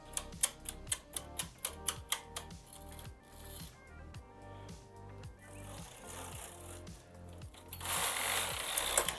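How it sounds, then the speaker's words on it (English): A knitting machine carriage is pushed across the needle bed during sock making, giving a rapid run of sharp mechanical clacks that grow into a denser rattling rush near the end, fairly close with no talking. "I need one more roll because the carriage has to be in this side"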